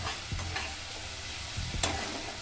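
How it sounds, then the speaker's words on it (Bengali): Spice paste being stir-fried in a pan with a little water for a fish curry, a steady close sizzle with scraping stirs and occasional sharper spits. "অল্প একটু জল দিয়ে মশলাটা কষিয়ে নিচ্ছি"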